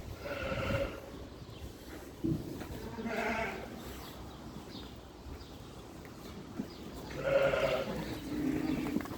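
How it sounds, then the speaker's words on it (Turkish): Suffolk sheep bleat several times at a distance on a farm, with a few separate calls spread over a quiet outdoor background and faint low noise. "Alman karabaşına benzeyen bir koyun var"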